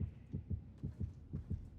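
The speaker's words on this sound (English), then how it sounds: "where that heartbeat is telling me they are at" The heartbeat warning in Dead by Daylight thumps quietly and steadily, a low, muffled double-beat pulse repeating several times in quick, even rhythm.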